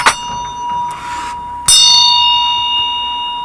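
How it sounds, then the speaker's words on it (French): A Tibetan ritual bell, a small hand bell used alongside a dorje, rings out with a sharp strike and a long shimmering tone, then is struck again mid-way and left to ring clearly, close and alone without voices. "Alors il y a la cloche."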